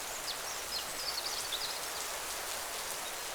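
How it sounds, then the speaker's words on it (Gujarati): Torrential rain pours down at night over a riverside forest, a dense, unbroken hiss of falling water with a few faint high chirps above it. "તે રાત્રે અચાનક વાતાવરણ બદલાય છે અને મુશળધાર વરસાદ શરૂ થાય છે."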